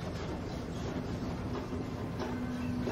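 A London Underground metro train rumbles steadily throughout, with a sustained low roar, a faint tonal whine and light rail clatter, heard from inside the carriage at moderate level with no talk.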